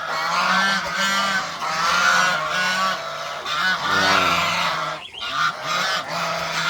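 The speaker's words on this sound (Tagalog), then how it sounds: "Yung gansa natin, napakaingay." A flock of geese honks loudly and continuously, overlapping calls filling the air with harsh, repeated cries nearby.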